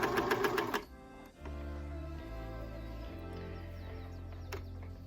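A Janome 1200D sewing machine stitching a neckband hem, a fast rhythmic chatter of stitches up close, then a lower steady hum with shifting pitch as the machine keeps running.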